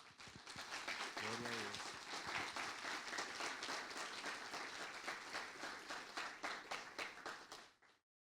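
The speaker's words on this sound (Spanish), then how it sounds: "Un fuerte aplauso para el Señor." A church congregation breaks into loud, sustained applause with a few shouts and cheers, holding steady for several seconds before tapering off and ending abruptly.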